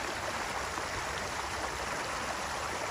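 A newly installed koi pond waterfall flowing over rocks, giving a steady, even rush of splashing water at moderate level throughout, with no other sounds.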